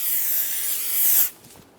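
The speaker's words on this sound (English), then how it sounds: "Spray the rotor down" Brake parts cleaner sprayed from an aerosol can onto a rear brake rotor of a 2014-2018 Chevrolet Silverado 1500, a close, loud, steady hiss lasting just over a second before cutting off abruptly.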